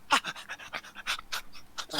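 A person imitates a dog panting with a run of quick, breathy huffs in an uneven rhythm, close and fairly loud.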